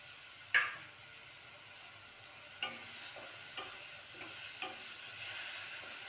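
Tomatoes and peas drop into a frying pan for methi bhaji and get stirred, a few sharp scrapes and clinks over a quiet, low sizzle, close up and without speech.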